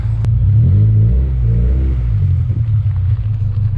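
A car being treated with Seafoam gives a loud, continuous engine rumble with revving as it pulls away, holding steady and close throughout.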